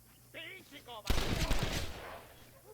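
Bandits open fire in the video game Red Dead Redemption. A brief shouted voice comes first, then a loud, sustained burst of overlapping gunshots and echoes that fades away.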